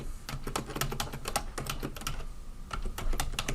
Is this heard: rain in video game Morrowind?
no